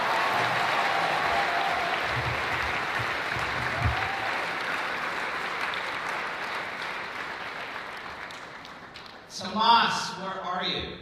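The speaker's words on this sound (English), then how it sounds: "can we give one more big round of applause for..." An audience at a school declamation event claps in a sustained wash of applause that slowly fades, after which a speaker's voice comes in near the end.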